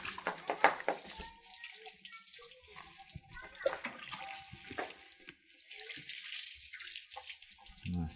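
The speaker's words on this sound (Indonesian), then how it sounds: "Baru kita siram bagian kiri" Water poured over the left side of a person to rinse them, splashing in repeated bursts with nearby voices talking.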